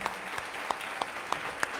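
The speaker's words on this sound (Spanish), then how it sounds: "Un aplauso para ellas." Applause for reading club members at a literary talk, a scattered audience clapping at moderate distance, steady and fairly quiet over a short stretch.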